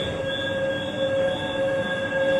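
LRT Jakarta light rail train passing on the line near Boulevard Selatan station, a steady loud metallic wheel squeal with sustained ringing tones over rumbling running noise, continuous throughout with no talk.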